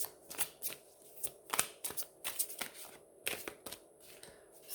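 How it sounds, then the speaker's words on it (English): Tarot cards being shuffled by hand, a run of crisp riffling bursts and soft slaps in uneven rhythm, close and fairly quiet with no talking. "I gotta learn to shuffle."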